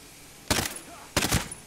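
Two sharp rifle shots, about half a second apart, crack out in the video game Ghost Recon Breakpoint, each with a short decaying tail over low background hiss.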